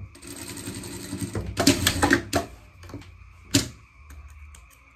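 A sewing machine topstitches a seam on a small pet dress, running in short uneven bursts with pauses and a few sharper clicks between stitching runs, close and fairly quiet.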